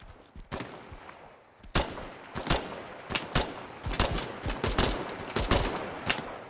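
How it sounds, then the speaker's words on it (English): Gunfire in a PVE extraction shooter video game: repeated sharp shots and short bursts ring out at an irregular pace, some close and loud, others farther off, with no talking. "shot fired. Taking shots by somebody."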